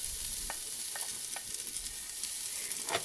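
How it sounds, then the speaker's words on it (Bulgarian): Chopped vegetables frying in oil in a pot hiss in a steady, quiet sizzle, with a few faint clicks as they are stirred. "Разбърквам ги хубаво и ще ги запържвам за около 4-5 минутки"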